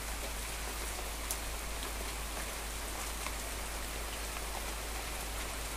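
Heavy rain pours down steadily on a flooding garden, a dense, even hiss of drops drumming on surfaces with no pauses, close and loud throughout.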